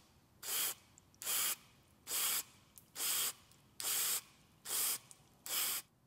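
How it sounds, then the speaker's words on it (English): Mass air flow sensor cleaner is sprayed at the sensor's hot wire in seven short, evenly spaced hissing bursts, close and crisp with quiet pauses between. "we're gonna spray about 10 to 15 times at that hot wire"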